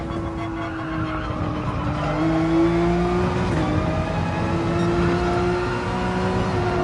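Race car engine in Gran Turismo Sport at Spa, holding a steady loud drone that climbs in pitch through each gear, with a shift partway through and continuous engine tone throughout.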